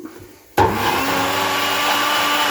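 A blender kicks in abruptly and runs steadily at full power, whizzing chilli into a basic Indian takeaway-style curry sauce, loud and close after a brief quiet moment.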